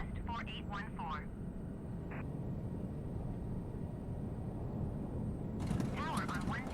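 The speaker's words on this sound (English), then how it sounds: "My A380's taking off here." An Airbus A380 takes off at LAX in the MSFS2020 flight simulator, giving a steady low engine drone under repeated bursts of radio chatter.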